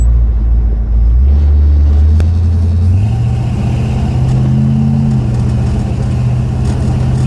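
A 1969 Plymouth Roadrunner, driven after sitting parked for 25 years, gives a loud, steady engine rumble that rises in pitch as it accelerates and then settles into a continuous drone, with no talking.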